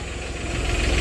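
A large earthmoving machine's diesel engine runs steadily outdoors, a close, continuous low rumble with a rhythmic throb and vibration and no voices over it.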